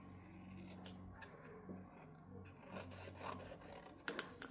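Scissors or a blade rasp steadily through a thin plastic sheet, trimming surplus material from a recycling craft piece, with close, continuous rubbing and cutting noise and a few sharper snips near the end.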